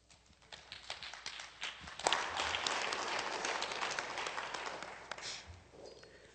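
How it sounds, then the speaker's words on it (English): Audience applause at a community gathering with chiefs, council and elders present, scattered claps building into a fuller burst of clapping, then thinning out, moderately distant and alone. "Let's give her a round of applause."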